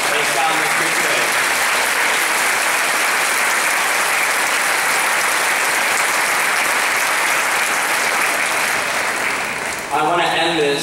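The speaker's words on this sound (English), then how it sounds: "can we get a round of applause for the parents, teachers, and staff who have shown the care and respect that has gotten us here today" Sustained applause from a large graduation audience honoring parents, teachers and staff, a dense steady roar of clapping for about ten seconds before it fades and a voice begins.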